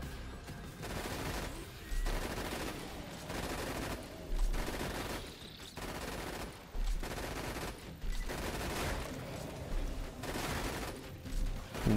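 A deployed turret fires in Roguelands, sending out rhythmic bursts of rapid shots that pause briefly every second or two, steady and fairly loud over a busy game soundscape.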